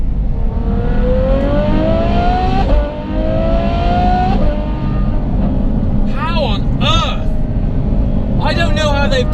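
A Ferrari F12's IP aftermarket exhaust growls and revs, pitch climbing through gears with sharp crackles between shifts, heard close from inside the car.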